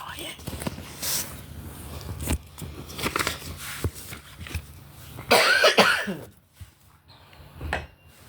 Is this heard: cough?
yes